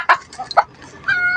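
A hen gives several short, sharp clucks in quick succession, close and fairly loud, ending in a drawn-out squawk.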